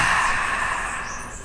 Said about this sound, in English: breathe in through the nose and out through the mouth with noise